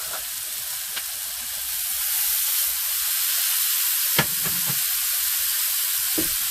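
Skirt steak (churrasco) sizzles in a hot pan, a steady bright hiss broken by a few soft clicks and clatters, with no voices.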